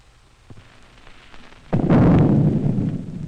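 An atomic bomb detonation in 1953 film footage: a sudden deep boom after a faint lead-in, followed by a heavy, sustained rumble that slowly fades.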